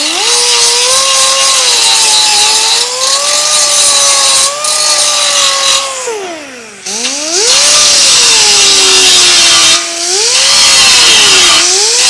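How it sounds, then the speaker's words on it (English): A power grinder whines loudly against metal on a 1932 Ford dash, its pitch dipping and rising as the load changes, with a brief drop around the middle before it resumes. "I think I'm going to grind this smooth"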